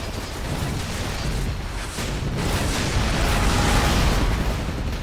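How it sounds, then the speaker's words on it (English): Rocket explosions in the flight combat game Air Conflicts: Secret Wars, a dense continuous rumble of blasts and booms that builds slightly louder toward the end, with no talk over it. "I got some rockets for them boys."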